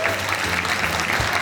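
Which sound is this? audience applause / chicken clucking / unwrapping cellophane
audience applause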